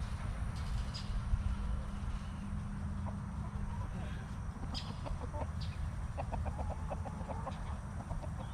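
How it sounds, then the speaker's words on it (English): Farm chickens cluck and murmur at moderate distance, with short bursts of repeated clucks rising over a steady low background rumble. "Them chickens love him in the mornings."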